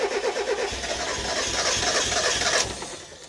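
Fire-damaged Mk1 car engine cranking while misfiring, a loud, close, continuous churn of the starter with uneven rhythmic pulses, ending as the cranking stops.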